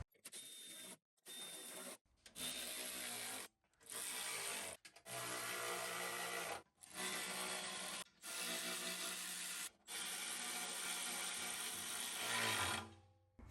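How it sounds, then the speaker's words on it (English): Bolts being tightened on an aluminum skid plate under a 100 Series Toyota Land Cruiser, heard as repeated bursts of power-tool whirring and ratcheting separated by short silences, close and moderately loud. "I'm just going to snug them up, because if I just keep driving the bolt in, I'm going to bend the skid plate."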